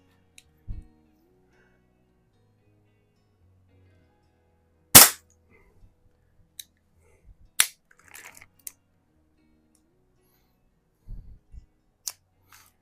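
An Airforce International Indian target air pistol fires a few sharp, isolated shots, one of them loud and close, separated by long quiet gaps and light mechanical clicks.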